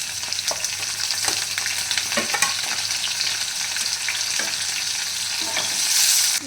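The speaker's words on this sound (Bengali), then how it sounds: "এখন দিয়ে দিচ্ছি ক্যাপসিকাম" Capsicum and potatoes fry together in a pan with a dense, constant sizzle and repeated scraping stirs of a spatula, close up and with no voices.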